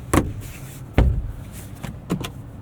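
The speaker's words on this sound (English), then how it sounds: "We've got massive sunshades here that slide." Sunshades slide open inside the cabin of a 2025 RAM 1500 Laramie crew cab, a few soft thumps and short sliding rubs, close and moderately loud in a quiet interior.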